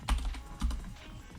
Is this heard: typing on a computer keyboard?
yes